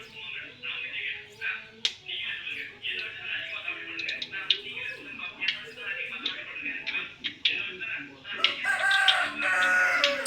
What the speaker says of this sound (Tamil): இடையில கோழிலாம் கத்திட்டு இருக்குது.